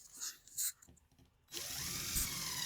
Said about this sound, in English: Pre-drill some holes.